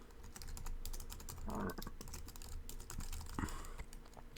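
Rapid typing on a computer keyboard, with steady quiet key clicks under low background hiss and a couple of heavier keystrokes.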